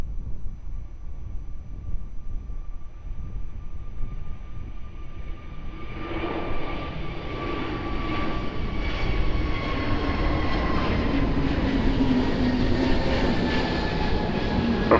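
An airplane on approach to runway 02 at Lisbon Airport passes as a steady engine rumble and whine that swells from moderate to louder and fuller midway through, continuing unbroken to the end.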